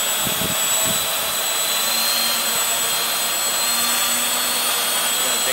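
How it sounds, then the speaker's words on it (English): Small Walkera Furious 320 tilt-rotor drone with its electric motors spinning, a steady high-pitched whine and hiss held loud and constant throughout, with a few brief low thumps near the start. "Okay, I'm gonna rotate the motor."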